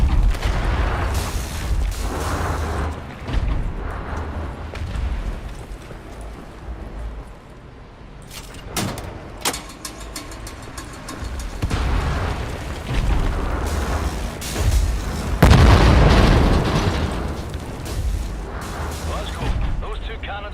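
Explosions boom and rumble in the shooter game Wolfenstein: The New Order, a series of loud blasts and bursts with crackling debris, heavy low-end swells and sharp pops, under bits of game dialogue.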